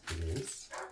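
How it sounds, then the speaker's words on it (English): A dog barks once or twice at a distance, muffled as if outdoors, and a person briefly says a couple of words. "you guys can hear the dog barking outside"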